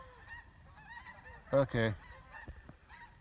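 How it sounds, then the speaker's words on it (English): Two loud honks from geese flying north overhead, a brief pair of calls against faint outdoor background noise, with a single short spoken word nearby. "Geese are flying northwest."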